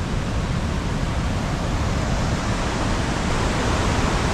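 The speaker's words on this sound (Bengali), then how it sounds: "হাকুইয়াম ঝর্ণার জলপ্রপাতের একটু রুদ্ররূপ দেখে নিই।" Hakuiyam waterfall near Chakradharpur and Chaibasa in Jharkhand roaring in a dense, steady rush of falling water, loud and unbroken throughout with no voices.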